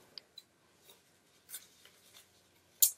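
Scissors make a few faint, scattered snips while cutting colored paper in a quiet room, with a sharper crisp cut near the end.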